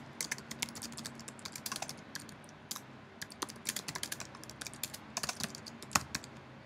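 A title typed on a computer keyboard, with steady close key clicks in uneven bursts and a few harder keystrokes, alone without talk.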